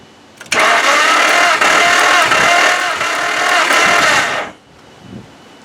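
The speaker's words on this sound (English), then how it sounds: "You're actually hearing some exhaust." A 1995 Nissan car engine with failing compression cranks and catches, then runs loud and rough with throaty exhaust for about four seconds before cutting off abruptly.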